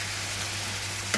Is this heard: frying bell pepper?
yes